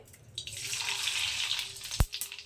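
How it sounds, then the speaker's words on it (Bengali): Mustard seeds dropped into hot mustard oil in a wok, a close hissing sizzle that swells and holds, then a sharp clack near the end as seeds hit the pan. "তো প্রথমেই তেলের মধ্যে দিয়ে দিচ্ছি একটু সর্ষে"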